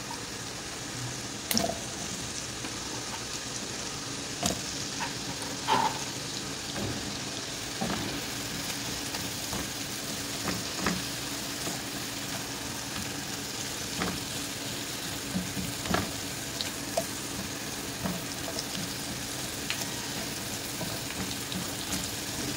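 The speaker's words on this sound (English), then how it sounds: "once the butter's melted, let's add our yellow onion" Yellow onion fries in melted butter over a medium flame, a continuous soft crackling sizzle with small sharp pops and occasional utensil ticks throughout, with no talking.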